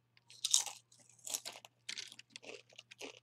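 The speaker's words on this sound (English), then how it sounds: "I'm sorry for the chewing. I love Doritos." Someone crunches Doritos tortilla chips close to the microphone, with irregular crisp bites and chewing over a faint low hum and no talk.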